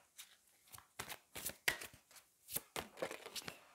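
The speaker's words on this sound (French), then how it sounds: "Donc je vais vous tirer une autre carte." Tarot cards being shuffled and drawn by hand, a quick series of soft papery riffles and slaps in an uneven rhythm, close and fairly quiet with no voice.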